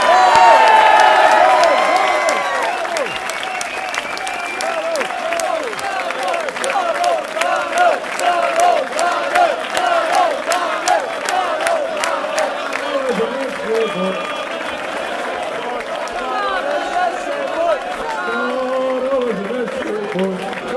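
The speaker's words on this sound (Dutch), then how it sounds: "Geef hem een zeer lang applaus." Long applause and cheering from an audience at a Belgian football awards event honouring a player's career, a dense crowd of clapping with whoops and shouts that starts loud and continues steadily with voices mixed in.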